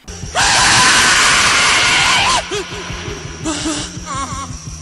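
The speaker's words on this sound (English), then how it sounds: "he alternates between just sort of a narrative and this kind of intense, brutal screaming" Intense, brutal screaming from a rock singer in a spooky rock song, a loud sustained shriek for about two seconds over driving instruments, then shorter wailing cries returning over the band.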